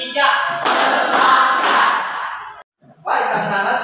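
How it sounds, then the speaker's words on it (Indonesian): Schoolchildren in a classroom clapping together in a led rhythmic pattern, loud and close, a dense burst of claps with voices chanting along, a short pause, then another round. "Tepuk 1, tepuk 2, tepuk 3."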